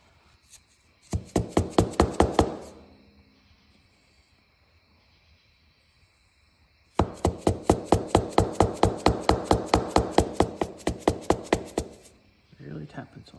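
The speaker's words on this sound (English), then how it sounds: "Really tap it so I don't damage the piston ring or the piston." Rapid metallic tapping on the piston of a 1973 Honda XL175 motorcycle during piston removal, two close, loud runs of quick even taps separated by a quiet pause.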